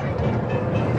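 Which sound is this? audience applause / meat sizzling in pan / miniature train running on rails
miniature train running on rails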